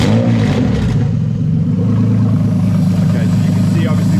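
A Toyota Soarer's 2JZ-GTE VVT-i straight-six running on an ECUMaster Black plug-and-play setup, a steady low engine drone with a slight rev at the start, close and loud throughout with no speech.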